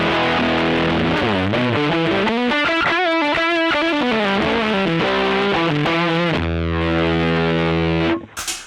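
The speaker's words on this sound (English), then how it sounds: "We have the Screddy Rover Fuzz, which is a tone bender clone, and it sounds like this." Electric guitar runs through a Scruddy Rover Fuzz pedal, a Tone Bender clone, giving thick, saturated fuzz with bending, wavering notes and then a held chord that cuts off abruptly, with no talking.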